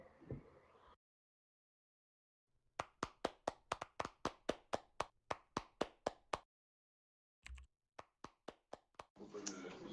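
Clapping after a conference talk on augmented reality for sports: about a dozen sharp, evenly spaced claps from a single close source, a pause, then a few more, with brief speech at the start and end.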